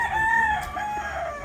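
A rooster on a ranch gives one clear, close crow with a drawn-out falling tone, alone without talk.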